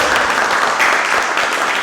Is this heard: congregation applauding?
yes